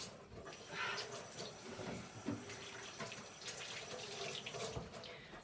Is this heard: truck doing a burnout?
no